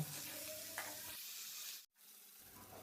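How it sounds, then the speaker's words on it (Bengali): Vegetables fry in hot oil seasoned with garam masala, bay leaf and green chili, giving a steady broadband sizzle with stirring scrapes early on, then a sudden brief cutoff before the frying noise resumes. "এই সবজিগুলো তেলের মধ্যে অনেকক্ষণ ধরে ভাজবো"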